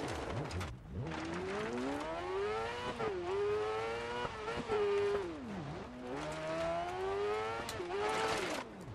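Rally car engine in the racing game Dirt 4 revs hard and continuously, pitch rising and dipping through gear changes and slides with occasional tire skids, loud and close throughout.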